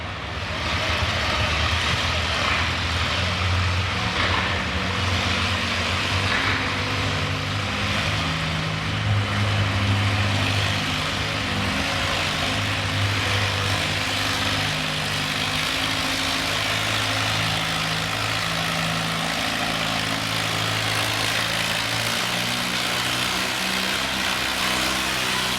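A classic antique tractor roars at full throttle during a tractor pull, a heavy low engine drone with rumbling harmonics holding steady and loud throughout, rising slightly mid-run.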